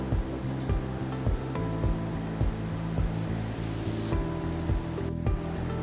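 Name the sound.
water boiling in pot for chicken biryani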